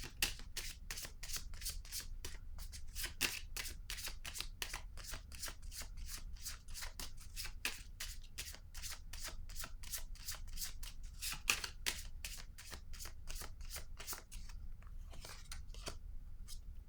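A deck of cards is shuffled repeatedly by hand in a quiet room, producing a rapid, steady run of crisp riffling flicks that continues throughout without speech.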